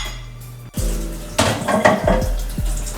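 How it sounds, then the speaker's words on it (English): A bowl is rinsed out at a kitchen sink while baking banana nut bread, with a sustained wash of running water under several sharp clinks and knocks of dishware, close and fairly loud, with no talking. "Rinse that out right quick."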